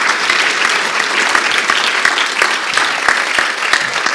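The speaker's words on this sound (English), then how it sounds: "So massive round of applause to yourselves." Steady, dense applause from a large audience at a pitch event, continuous and loud throughout with no voices breaking through.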